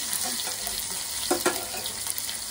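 Chili and garlic are dropped into hot oil for a tadka, giving a short bright sizzle and spatter with a couple of sharper crackles, close and fairly loud, with no talking.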